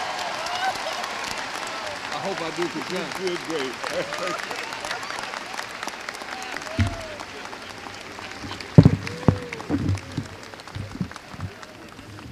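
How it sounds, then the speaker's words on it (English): University commencement crowd applauding as a speaker comes to the stage, a broad steady patter of clapping with voices and scattered cheers mixed in, with brief nearby talk near the end. "Let's give him a big round of applause."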